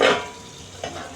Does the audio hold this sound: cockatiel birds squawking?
no